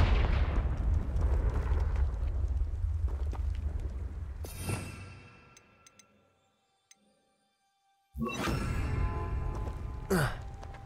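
A Confringo blasting spell detonates in a video game: a loud, rumbling explosive burst decays into near silence. A second sharp blast follows, with crackling debris.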